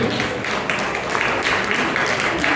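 Audience applauding at a felicitation ceremony, a dense steady wash of clapping from a large crowd held at an even level throughout, with some voice mixed in.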